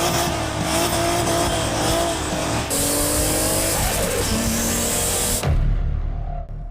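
A tuned turbocharged car is driven hard around a race track, its engine roaring loud and steady with rising and falling revs and shifts, then cutting abruptly to a lower rumble near the end.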